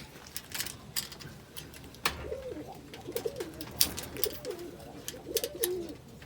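Indian Kaldom pigeons cooing in a loft, a run of soft repeated throaty coos close by, with scattered clicks and rustling around them and no talk.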